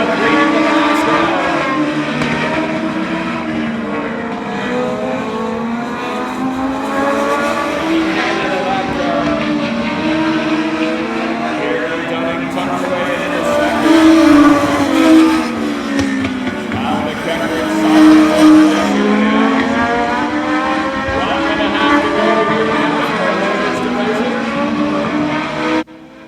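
Legends race cars roar around the oval at Oyster Bed Speedway, engines rising and falling as they pass through the turns, loud and continuous with tire scrub and a commentator talking over the field.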